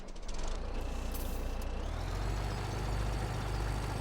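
A truck engine in Farming Simulator 17 idles in a low, steady chug, with a sharp air brake hiss early on and a thin, sustained tone riding above.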